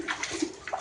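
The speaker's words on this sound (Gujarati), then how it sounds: "હનુમાનજીને સ્નાન કરાવે." Water splashes and pours over a Hanuman idol at a temple in a forest during the monsoon season, a brief close gush with uneven surges lasting under a second.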